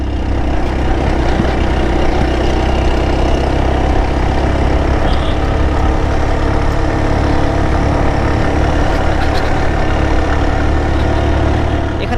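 A vehicle engine labours uphill in third gear on a road in Bandarban, Bangladesh, giving a loud, continuous low drone that holds steady throughout, with no voices.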